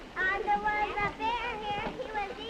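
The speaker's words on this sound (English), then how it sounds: "What makes the room so noisy? Oh gosh, I don't know. Maybe 30 children?" A noisy school classroom of about 30 children, with overlapping young voices chattering and calling out in a busy indoor hubbub, close and continuous.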